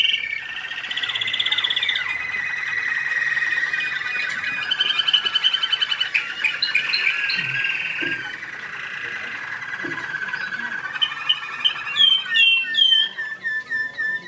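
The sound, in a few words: American Singer canary singing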